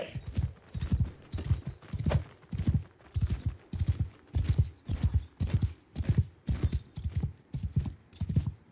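Horse hooves gallop in a steady, loud rhythm of repeated thudding clip-clops in the video game Mount & Blade II: Bannerlord, a dozen or more beats running alone throughout.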